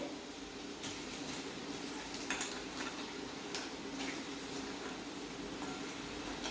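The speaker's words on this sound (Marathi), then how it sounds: "आता हे खेकडे मी टाकणार आहे त्याच्यात." Live crabs for a Goan Saraswat crab masala are tipped into a pan of lightly salted onions on a low flame, giving faint, irregular clatters and scrapes of shell on metal over a steady low hiss, with no talking.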